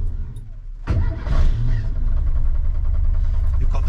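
Renault R8 with a swapped-in 1397cc engine cranks and catches at about one second, then settles into a rough, steady idle close by, in pouring rain.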